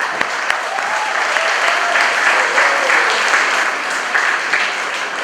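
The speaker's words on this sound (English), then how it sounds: "Another round of applause for Olavo de Macedo." An audience at a fundraiser party applauds steadily, a dense, sustained patter of many hands clapping for about five seconds, with a few faint voices mixed in.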